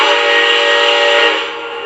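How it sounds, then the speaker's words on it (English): A Lionel Legacy AT&SF 4-8-4 Northern model steam locomotive sounds its whistle in one steady, loud, multi-tone blast that fades slightly at the end, heard alone. "The whistle sounds to confirm that it's taken the command."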